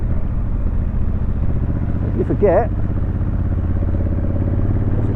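A motorcycle with a DCT automatic gearbox rumbles steadily and loudly while being ridden, its continuous engine drone filling the clip as someone speaks briefly over it.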